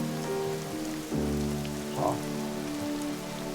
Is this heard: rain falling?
yes